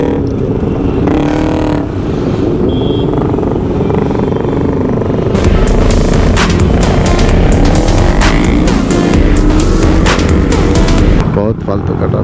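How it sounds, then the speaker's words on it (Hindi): City traffic hums steadily during a group motorcycle ride, with engines revving and a dense wash of road noise that grows heavier and more clattery in the second half, and people talk over it. "बहुत फालतू का ट्रैफिक हो रहा है यार।"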